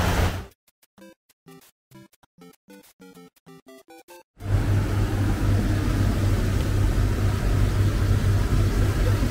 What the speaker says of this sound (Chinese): 聽到啲引擎聲啊！